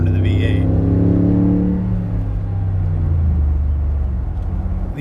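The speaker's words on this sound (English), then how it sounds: "Another thing that's really entertaining about driving this car is just the sound of the V8." A 2015 Mercedes-Benz G550's V8 engine and tuned exhaust rumble loudly from inside the moving car, a deep steady drone with pitch slowly falling as it eases off.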